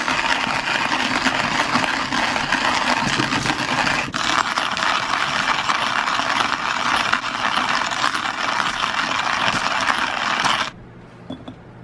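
Coffee beans being ground in a manual hand grinder, giving a steady, loud, gritty crunching and rattling that runs continuously for about ten seconds, then stops abruptly, leaving near silence.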